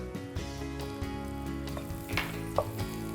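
Butter hitting hot sugar syrup for peanut brittle, a steady close sizzle and crackle with occasional stirring scrapes and small pops, with no voices.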